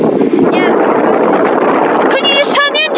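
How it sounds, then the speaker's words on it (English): A motorboat engine drones steadily at sea off Sicily with wind buffeting the microphone, voices calling out over it, and a few high squeals near the end. "Can you just turn the engine off and go straight through it, Mel?"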